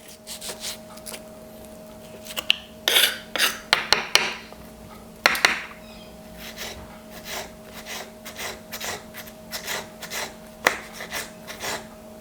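A knife works close up on a board, cutting chili into fine brunoise for tuna ceviche. Irregular sharp taps and scraping strokes come in short bursts, with a faint steady hum underneath.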